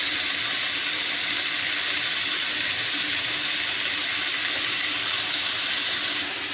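Bottle gourd leaves (lau shak) frying in a pan, a steady close sizzle and hiss running unbroken throughout with no voices.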